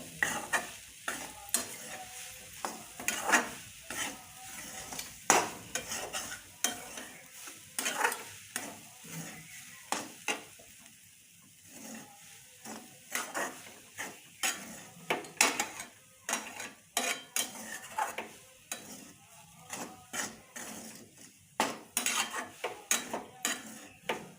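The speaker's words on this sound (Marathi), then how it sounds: "थोडंसं याच्यातलं पाणी सुकेपर्यंत आपण भाजून घ्यायचं आहे फार नाही भाजायचं" Fresh grated coconut roasts dry in a pan, stirred with a spoon in quick repeated scrapes and clinks against the metal, with a soft sizzle underneath and no talking.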